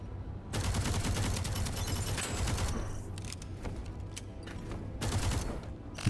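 Rapid automatic gunfire from the video game Deadzone Rogue rattles on almost without a break, loud and close, then thins into scattered shots before another burst near the end, with no voices.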